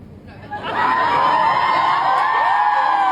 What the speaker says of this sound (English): Straight to cheering after that.